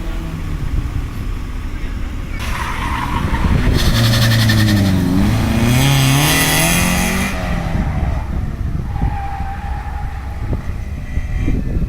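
A Mazda Miata on cheap coilover springs with worn shocks drives an autocross course, heard from outside as the engine rises and falls through revs over a steady background of wind and crowd noise.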